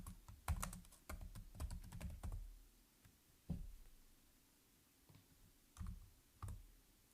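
Typing on a computer keyboard, close and clear, with a quick burst of key clicks at the start and then scattered single taps and short pairs after pauses, no talking.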